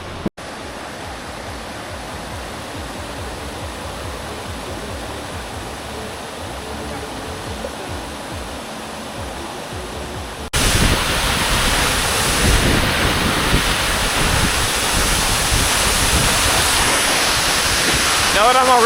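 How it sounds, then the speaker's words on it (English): A waterfall in Laos roars as a steady, full rush of falling water, near and loud, growing noticeably louder and brighter partway through as the spray gets closer. "I've made it to the top of the third waterfall here"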